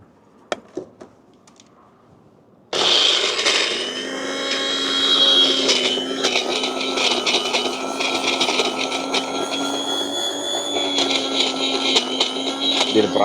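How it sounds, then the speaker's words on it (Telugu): A mixie grinder blends garlic and two onions, starting abruptly with a loud, steady motor whir that runs continuously after a brief quiet stretch with faint voices and clicks. "సో మన మిక్సీ రెడీ."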